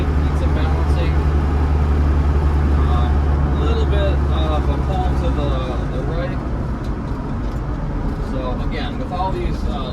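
A 1993 Land Rover Defender 90 with the 200Tdi diesel engine accelerates on the road. A loud, steady engine drone rises and then settles, and road and wind noise run underneath the whole time.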